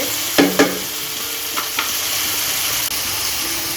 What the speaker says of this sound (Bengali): জলটা দিয়ে দিলাম এখন রান্নাটা হয়ে যাবে